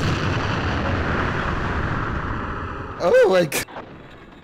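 Artillery from a 203 mm howitzer in a Battlefield game, a sustained low rumbling roar of fire that fades, followed by a brief burst of speech and a sharp crack near the end.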